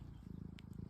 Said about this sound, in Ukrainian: він вже на колінах і вже муркає